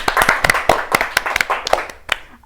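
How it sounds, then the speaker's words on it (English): A small group applauds a 5th grade class at a school: sparse, distinct hand claps at an uneven rhythm, close and fairly loud, thinning out and stopping after about two seconds. "Let's give them a round of applause."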